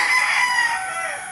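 A rooster crows loudly and close by, a single drawn-out call with a harsh, bright tone that holds for over a second.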